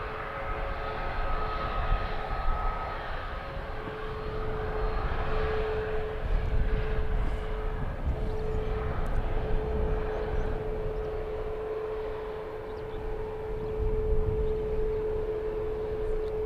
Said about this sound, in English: So this Wiz going through the control surface checks as it taxis ready for takeoff.